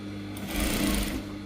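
A sewing machine stitching a gown runs in one short, close burst, its motor whir swelling and then easing off.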